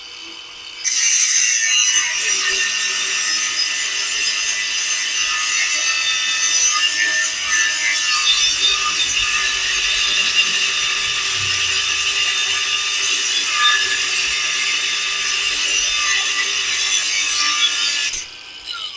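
A Masaru SCG605 4-inch cordless angle grinder cuts 12 mm ribbed steel rebar continuously for about seventeen seconds, a loud, bright, harsh metallic whine with steady grinding texture, starting and stopping abruptly.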